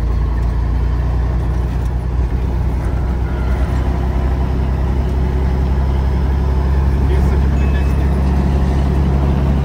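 A truck engine in eighth gear accelerates with a loud, steady, close diesel drone and rumble that holds throughout, with no one talking.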